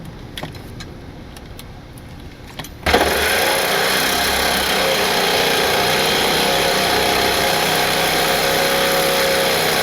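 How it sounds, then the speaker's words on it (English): Power tool, a reciprocating saw or drill, working on a seized bolt under a car while replacing the sway bar end links, starting abruptly after a few quiet seconds and then running as a loud, steady, continuous whine with no talk. "I was sawzalling it, I was drilling it"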